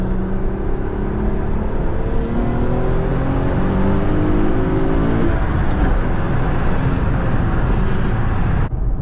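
An Acura TL fitted with RV6 high-flow cats and an RV6 J-pipe pulls hard under steady acceleration, its loud, continuous engine drone climbing in pitch while heard from inside the car, with no talking.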